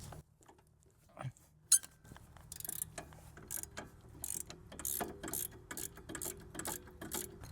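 A hand ratchet works on a 14mm brake caliper bolt on a Lexus ES300, giving a run of quick metallic clicks and clinks that grows busier toward the end, close and fairly quiet, with no speech.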